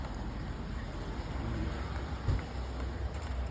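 Steady rain hisses outdoors, a dense broadband wash with a few louder thumps of drops or nearby activity, no voices.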